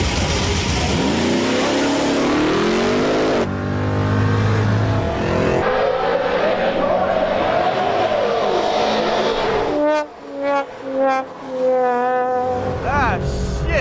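A hot rod drag race car launches hard at a drag week event, its engine climbing steeply in pitch through several gear changes, loud and close, then settling into sharp, pulsing revs near the end.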